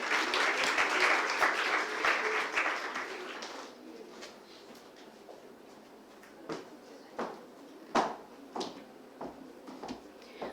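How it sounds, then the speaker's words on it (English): An audience at an international life sciences conference gives a round of applause that lasts about three and a half seconds, then thins to quiet room tone broken by a few sharp knocks and handling sounds. "A huge round of applause"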